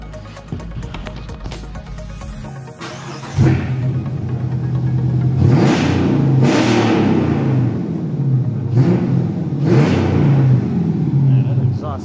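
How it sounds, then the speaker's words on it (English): A Ford F-150 with a 3-inch exhaust running straight from the headers revs repeatedly, several sharp throttle blips rising over a loud, close idle rumble. "Let's hear this thing sound up real quick with the exhaust."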